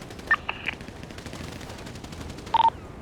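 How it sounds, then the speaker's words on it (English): Short, loud bursts of automatic gunfire from a video game shootout, one cluster near the start and a tighter rapid burst near the end, over a low steady background with no talking. "Oh, I was getting shot."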